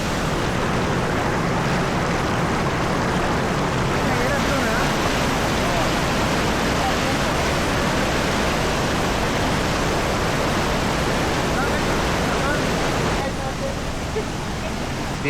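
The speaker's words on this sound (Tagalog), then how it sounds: "Ang lakas ng alon." Strong waves of rushing water roar steadily and loudly near Mother Falls in Baler, a dense, continuous wash of noise that fills the whole stretch.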